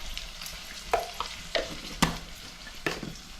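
Mustard seeds dropped into hot oil, giving a soft sizzle with several sharp pops and crackles at irregular intervals, close and fairly quiet with no voices.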